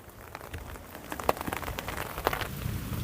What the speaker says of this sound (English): The rain's pretty good. Rain's coming down.